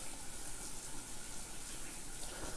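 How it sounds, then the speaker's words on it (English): Shower water splashes as a video game sound effect, a steady, even hiss of spraying water with no pauses and no voices. "Cold water splashed against Cera, soaking away the tension from the battle."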